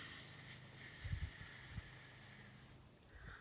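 A voice imitates a lawn sprinkler with a soft, steady hissing whisper that lasts the whole short clip, faint and close.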